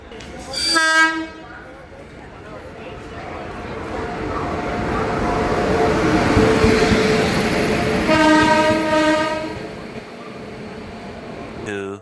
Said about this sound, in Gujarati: ફાઇનલ ટ્રેન આવી ગઈ છે જો